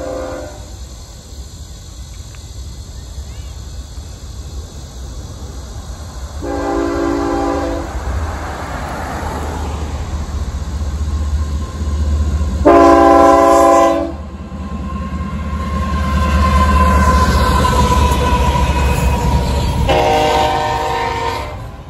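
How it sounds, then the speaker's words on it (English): A Norfolk Southern southbound intermodal freight train rolls past on the Sandusky District, its rumble steady throughout while the horn sounds in three loud blasts, the middle one strongest, with no talk. "the first train of the day for me was a Norfolk Southern southbound intermodal train going down the Sandusky District"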